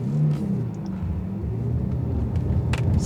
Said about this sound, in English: let's put it into sport. Oh, did the valves just open?